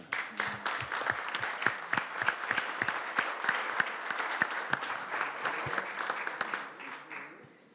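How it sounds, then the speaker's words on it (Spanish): Audience applause at a national education forum panel in Mexico, greeting the university rector; dense, steady clapping from a sizable crowd lasting several seconds before tapering off at the end. "Un aplauso, rector, por esa…"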